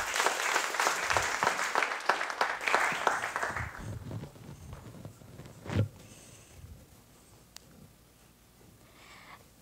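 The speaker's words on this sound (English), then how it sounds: "Give her a round of applause, please." Audience applause at a university research-presentation competition in Galway, loud and dense for about four seconds, then fading to scattered claps and room murmur.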